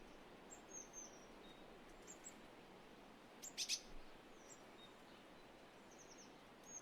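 Pre-recorded songbird calls of real birds, faint and scattered: thin chirps and whistles dotted through a hissy background, with a brief brighter cluster of notes near the middle.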